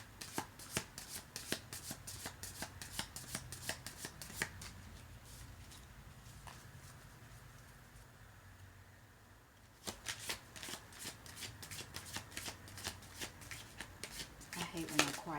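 Tarot cards shuffled and drawn by hand, with quick bursts of riffling and snapping card sounds at the start and again near the end, separated by a quieter stretch of soft handling and faint background speech.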